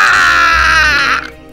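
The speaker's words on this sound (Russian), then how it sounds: "а потом вороны закаркали." A crow caws in an audio fairy tale: a loud, drawn-out, harsh cawing call up close that fades away at the end.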